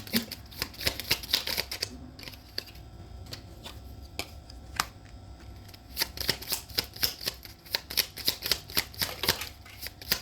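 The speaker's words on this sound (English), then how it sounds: "I might as well keep shuffling until they all fall on the floor." Tarot cards are shuffled by hand at close range, a quick run of crisp riffling snaps that pauses briefly midway and then resumes, with no talking over it.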